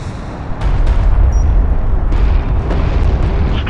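Heavy, rumbling blast as a strike craft is destroyed in the real-time strategy game Homeworld: Deserts of Kharak, a loud low boom that swells and rolls on for a few seconds amid crackling debris.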